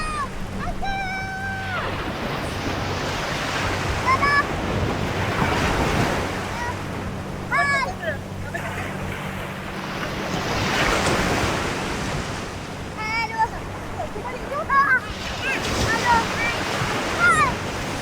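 Sea waves wash steadily onto a beach in Mersing as the tide comes in, a continuous roar with gusting wind noise, while voices and laughter rise above it at intervals.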